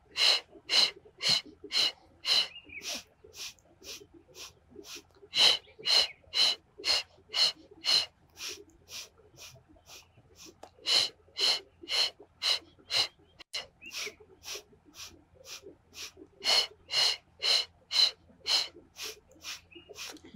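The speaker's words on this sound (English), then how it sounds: "exhale through the mouth 5 times" Forceful breaths pushed out through the mouth during a Pilates exercise, sharp rhythmic puffs in sets of five with brief pauses between sets, close and clear.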